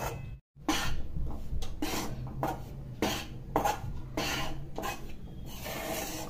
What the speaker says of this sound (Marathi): परतून असं हलवत राहायचं सारखं।